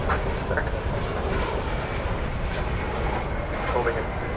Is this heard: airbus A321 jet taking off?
yes